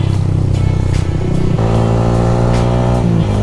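A Yamaha Sniper 155R motorcycle engine hums steadily while riding, its tone shifting up partway through as the rider accelerates, close and loud with no talking.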